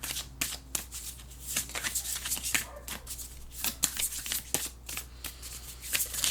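Astrology oracle cards are shuffled by hand, giving soft, repeated riffling and rubbing with an irregular rhythm, close and fairly quiet.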